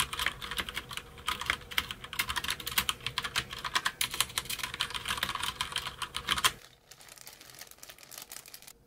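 Rapid, close clatter of a MAGEGEE MK-BOX mechanical gaming keyboard being typed on, dense overlapping key clicks for several seconds, then a quiet stretch with only faint background noise.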